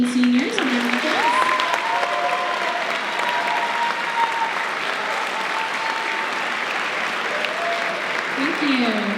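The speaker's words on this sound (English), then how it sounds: "let's give our 18 seniors a round of applause" A school audience applauds seniors at a Class of 2024 event, with steady clapping running under a sustained tone and a voice speaking over it from start to finish.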